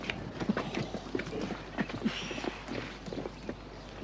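Hooves of a horse hitched to a cart clip-clop at a steady walking pace, moderately close, with a low rumble of cart wheels beneath and some faint background bustle.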